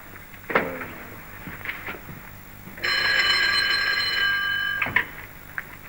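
An old-fashioned telephone bell rings in one loud, continuous burst of about two seconds, with scattered knocks and room sounds before and after it and no talk.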